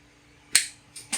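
Copper wire end snipped off with cutters: one sharp close click followed by two quicker lighter snaps in a quiet room.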